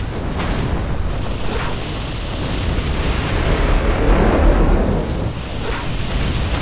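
An EMP explosion in the strategy game Command & Conquer Generals Zero Hour. It makes a loud, sustained rumbling roar that swells in the middle and then eases off, with no voices.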